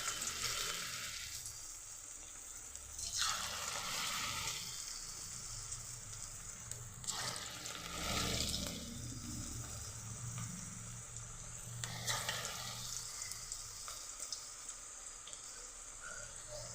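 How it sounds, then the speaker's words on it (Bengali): Onion fritters (piyaji) frying in hot oil give a continuous close sizzle, rising in louder bubbling surges as pieces go in, heard alone without speech. "তেল গরম হয়ে গেলে এক এক করে পেঁয়াজিগুলো ছেড়ে দেব।"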